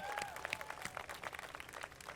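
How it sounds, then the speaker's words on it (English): Applause for Hart students at a topping-off ceremony for a tennis and learning center: a dense, steady patter of many hands clapping across a room, with a few brief whistle-like tones rising above it. "Can you give the Heart Jets another round of applause?"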